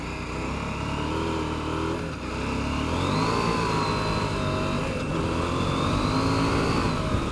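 KTM 790 Adventure motorcycle ridden on gravel, its engine droning steadily with rising and falling revs and shifts, heard close and continuous amid wind and road rumble.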